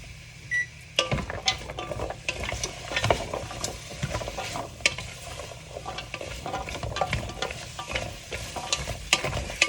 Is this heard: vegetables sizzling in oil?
yes